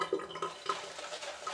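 Water is poured into a plant-based soap mixture in a pot, a soft close trickle and splash with little bubbling drips, steady and fairly quiet with no talk.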